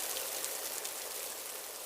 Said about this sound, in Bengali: শিয়ালটি তখন ঘরের চাল ঠিক করতে থাকে, আর তার বাচ্চাটি বৃষ্টিতে ভিজতে থাকে